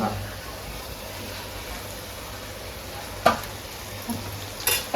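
Cauliflower is added to soybean masala frying in a pan and stirred in: a steady low sizzle with a sharp clatter about two-thirds through and scraping stirs near the end, close and moderately loud.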